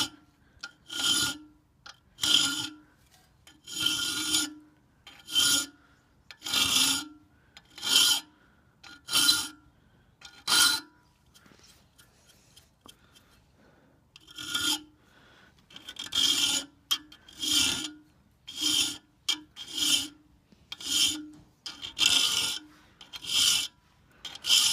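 Rhythmic rasping strokes of a metal file sharpening the front teeth of an ice axe, about twenty short even passes in bursts with brief pauses, close and clear with no talk.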